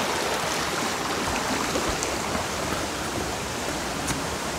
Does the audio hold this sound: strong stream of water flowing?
yes